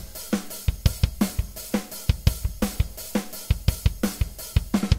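Rock drum beat with kick, snare, toms and cymbals, a steady groove of punchy hits and crashes at moderate loudness, played alone without voices.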